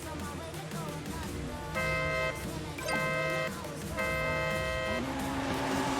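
Cars set off in a Forza Horizon 5 drift battle, a BMW M4 against a Mustang RTR, engines droning under repeated horn-like tones that come in short spaced blasts, with faint talk in the background.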